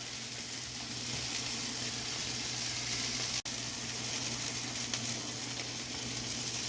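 Hamburger patties sizzle on a griddle in a steady, close, even hiss for several seconds, broken by one sharp brief click midway.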